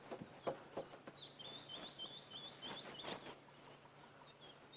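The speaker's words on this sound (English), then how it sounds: "we can hear white-browed scrub robin calling quite vigorously" A white-browed scrub robin calls vigorously at sunrise in the Sabi Sand bush, repeating short bright phrases in a quick series over faint background clicks and rustles, fairly close and clear.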